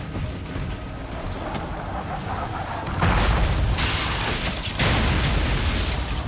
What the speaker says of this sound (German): Oh oh, die explodieren gerade hier.